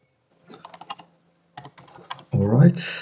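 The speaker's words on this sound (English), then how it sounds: "need to type the password, using our password" A password is typed on a computer keyboard in two quick runs of light, close key clicks separated by a pause, then a louder burst of other noise.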